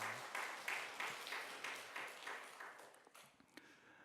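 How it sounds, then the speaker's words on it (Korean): A church congregation applauds the choir after a hymn, a burst of clapping with distinct rhythmic hand claps that gradually thins and fades toward the end, heard in a reverberant sanctuary. "오늘 우리 수고한 우리 성가대를 위해서 여러분 격려의 박수 한번 해주시기 바랍니다"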